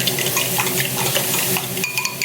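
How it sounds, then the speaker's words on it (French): Eggs are beaten in a bowl for cookies, giving a loud, busy, continuous whisking and clattering close to the microphone, with a few sharper clinks near the end. "Du coup les œufs dans un bol, je les bats"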